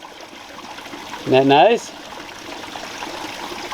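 Creek water flowing steadily around a boulder, a continuous close rushing trickle with someone briefly speaking over it.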